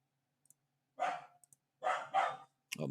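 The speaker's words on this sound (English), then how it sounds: "Oh my god, she's barking" A dog barks three times, close and loud, with short gaps of silence between the barks and a faint click before.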